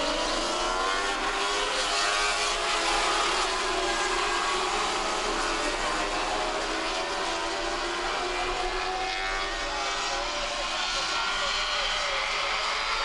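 Roughly twenty small race cars pull away at the start of a feature race, a loud, sustained engine roar filling the track with revving and blending into one continuous howl, with no one talking.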